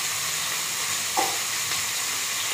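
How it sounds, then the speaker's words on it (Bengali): Paneer, potato and capsicum fry with salt in a pan, giving a steady, close hiss of sizzling oil with a brief scrape of stirring partway through. "এবার আমি নুন দিয়ে ভেজে দেবো।"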